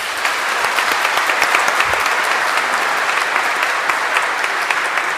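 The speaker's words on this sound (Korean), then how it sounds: "다시 한번 우리 새 신부님들에게 큰 박수 부탁드립니다." A crowd applauds at a celebration marking the 50th and 60th anniversaries of priestly ordination, dense steady clapping throughout, loud and sustained with no talk over it.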